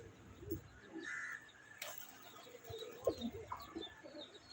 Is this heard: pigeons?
yes